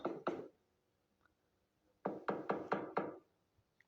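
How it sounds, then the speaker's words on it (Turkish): Knocking on a door in the Toca Boca video game: two quick knocks, a pause, then a rapid run of five close, crisp raps. "Kapı çalıyor."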